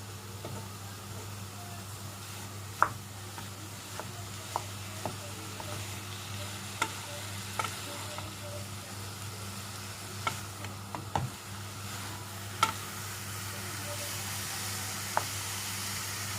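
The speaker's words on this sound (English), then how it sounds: "So on a full heat, we're going to mix this and cook this until it's brown." Keema mince with salt sizzles over full heat while a utensil stirs it, giving a steady frying hiss broken by intermittent soft scrapes and clicks against the pan, with no talking.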